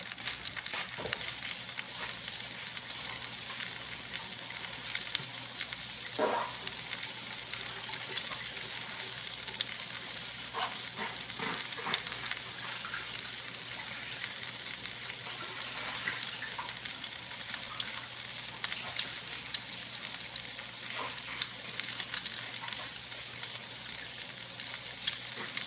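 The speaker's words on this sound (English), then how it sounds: "just let this meatloaf continue to brown on that opposite side, get crispy" Meatloaf sizzles and fries steadily in a stovetop pan as it browns and crisps on its second side, a constant broadband crackle with a few brief clinks and stirring sounds, no talking.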